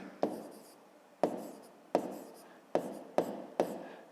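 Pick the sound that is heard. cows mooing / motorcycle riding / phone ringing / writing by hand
writing by hand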